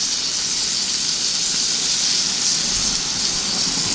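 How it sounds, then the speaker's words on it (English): Steady, dense crackling hiss of rainbow trout frying skin-down in hot olive oil, continuous and fairly loud throughout with no pauses. "See that nice sizzle?"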